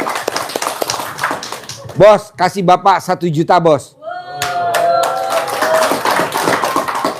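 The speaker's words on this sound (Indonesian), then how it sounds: "Oke, tepuk tangan dulu dong." A group of people claps hands in quick bursts at the start and again toward the end, with someone speaking loudly and nearby in between and over the clapping.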